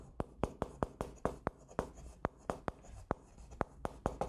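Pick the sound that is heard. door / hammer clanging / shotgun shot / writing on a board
writing on a board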